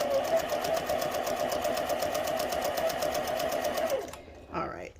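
A sewing machine chain piecing fabric runs steadily with a fast even whirring stitch rhythm for about four seconds, then stops, followed by a brief soft handling sound.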